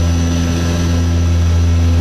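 Steady, loud drone of an Antonov plane in flight, a constant engine and propeller hum with strong low tones, close and continuous with no voices.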